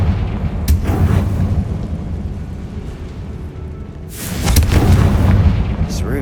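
Confringo spell explosions in Hogwarts Legacy: two booming blasts, the first near the start and a larger rumbling one about two-thirds through, over a low droning background, loud and close.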